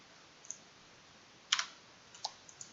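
Scattered soft clicks of typing on a computer keyboard, several sparse keystrokes with one brief cluster, faint and close in a quiet room with no talking.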